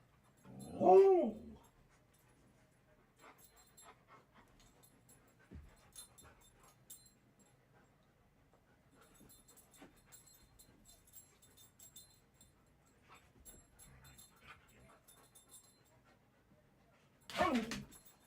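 Puppies wrestling, with a loud yelp or whimper near the start, light panting and scuffling through the middle, and another sharp cry at the end; no speech.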